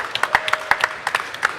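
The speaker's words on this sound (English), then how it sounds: "can I please have an applause for all the volunteers here on Darklands?" Scattered hand clapping from an event audience at Darklands, applauding the volunteers: a dozen or so separate claps in uneven rhythm, fairly close and moderately loud, more like a thin patter than a full ovation, with no talking.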